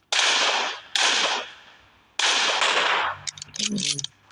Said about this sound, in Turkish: Ben niye altı tane sıkıyorum her bir lastiğe?